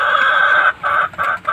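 A Brazilian Shamo hen clucks close by: one long drawn-out call followed by three or four shorter clucks in quick succession, with no voices over it.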